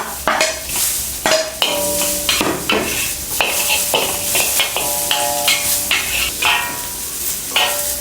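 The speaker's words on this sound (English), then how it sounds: "ginger, saute it until aromatic. the scallion, dry chili" Ginger, scallion and dry chili sautéing in a hot pan with garlic, a loud continuous sizzle broken by repeated sharp scrapes and clanks of a spatula stirring against the metal.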